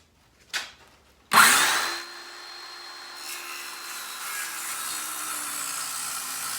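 A power saw bites into wood to rip 3/4 by 3/4 inch strips for a garden obelisk, opening with a sharp knock, then a loud burst as the blade enters, settling into a steady whining cut.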